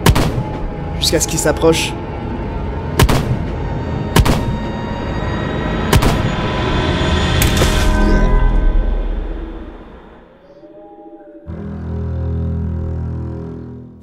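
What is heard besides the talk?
gunfire sound effect in an audio drama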